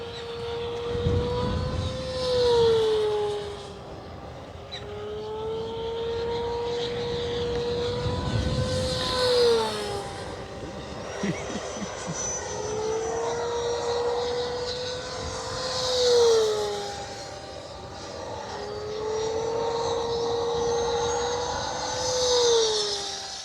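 An ElectroStreak 1.1 m electric RC plane at full throttle, its high motor whine sweeping up and down in pitch as it passes back and forth overhead, louder on each close pass and fading between them.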